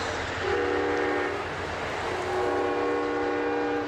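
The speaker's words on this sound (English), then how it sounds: "The train is numbered 14, traveling northbound to Seattle." Amtrak's northbound Coast Starlight, train 14 to Seattle, sounds a sustained multi-tone horn blast that holds steady, dips briefly, and returns over a low rumble of the moving train, heard from a moderate distance.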